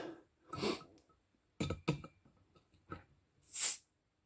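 Clinks and scrapes of a glass bottle, then a short, bright hiss of gas escaping as the cap comes off, close by with no talking.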